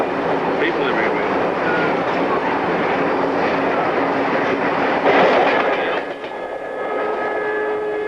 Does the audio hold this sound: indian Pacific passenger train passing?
yes